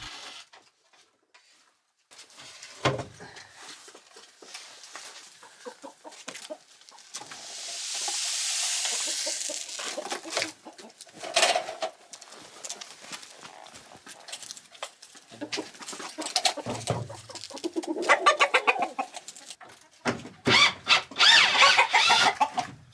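Chickens cluck and call around feeding tubes on a snowy Swedish homestead, with intermittent clucks and a rooster-like crow, plus rustling and clattering handling noises between them.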